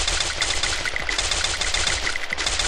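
Rapid automatic gunfire in the battle royale game Garena Free Fire, a dense unbroken burst of shots rattling continuously at close range with no speech.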